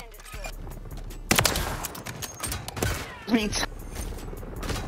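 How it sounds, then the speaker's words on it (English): Shotgun blasts in a Black Ops shooter game, a few sharp booming shots at uneven intervals mixed with other game gunfire, with a man exclaiming over them. "I killed this kid with a shotgun."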